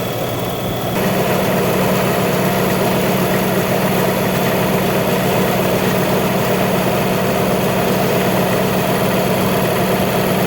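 A SanBorn air compressor runs steadily and loud throughout, a constant mechanical drone with a low hum and no pauses, no voices over it.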